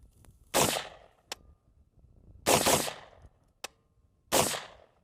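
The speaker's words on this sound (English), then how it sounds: "Good smooth function on rapid fire." An Adams Arms P1 MOE gas-piston rifle in 5.56 fires three loud, close shots a couple of seconds apart, each a sharp crack with a ringing tail, with faint clicks between.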